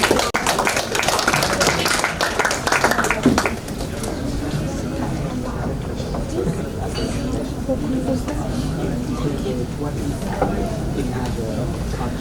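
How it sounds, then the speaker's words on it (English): Audience applause at a youth summit event in Japan, sustained dense clapping from a crowd that starts loud, eases after a few seconds and continues steadily. "give applause for"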